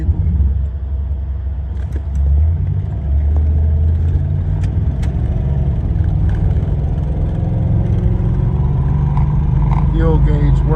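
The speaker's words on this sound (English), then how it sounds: "we're gonna get a quick test drive in this 87 Monte Carlo" A 1987 Chevy Monte Carlo SS on a cold-start test drive, its V8 engine rumbling low and steady inside the cabin, with someone talking over it throughout.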